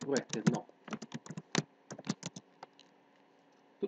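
Computer keyboard typing out a project name while setting up a console application: a quick run of separate key clicks in short irregular bursts, close and fairly clear, with brief pauses between groups of keystrokes.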